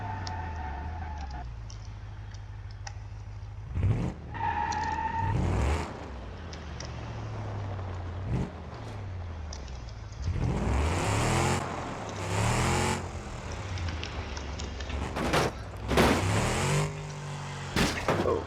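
A Cadillac engine in a video game revs and accelerates in repeated surges, each with a rising and falling whine, moderately loud and without talk.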